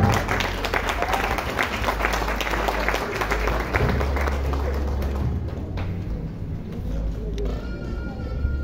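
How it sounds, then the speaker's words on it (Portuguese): Sustained audience applause at a medical ultrasonography conference, dense steady clapping from a crowd filling the whole stretch, with some voices mixed in. "Un aplauso por favor"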